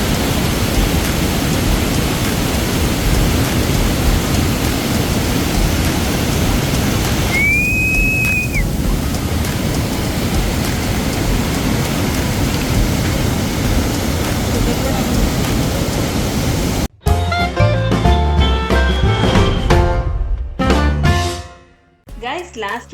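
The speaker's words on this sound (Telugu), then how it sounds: "కొంచెం కొంచెం వర్షం పడుతుంది" Light rain falls steadily outdoors near the Prometheus caves in Georgia, a constant soft hiss that runs for most of the stretch before giving way to busier sounds, with a person talking near the end.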